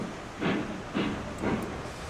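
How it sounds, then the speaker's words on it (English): A steam locomotive reverses slowly in the Railroads Online video game, giving three evenly spaced, breathy chuffs of steam about half a second apart over a steady background hiss. "So we gotta back this train up."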